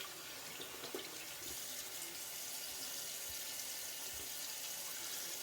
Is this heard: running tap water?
yes